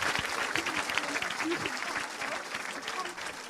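Church congregation applauding to acclaim the Lord, a dense, steady wash of clapping from a large crowd that holds evenly throughout, with no talk over it.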